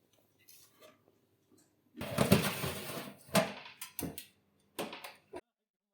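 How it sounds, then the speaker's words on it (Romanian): A metal baking tray holding risen bread is slid into an oven preheated to 200 degrees, giving close clanks and a scraping slide, then a few sharp knocks as the door shuts, amid quiet pauses. "luăm tava și o băgăm în cuptorul preîncălzit la 200 de grade"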